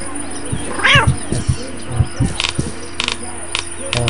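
A cat in the video game Postal 2 gives one short, rising meow, set among other in-game sounds, thuds and noises.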